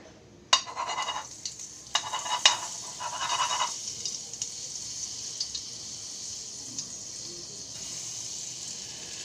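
Butter dropped into hot white oil in a kadai, sizzling as a paneer butter masala begins; a few sharp clattering bursts early on give way to a steady, even frying hiss for the rest.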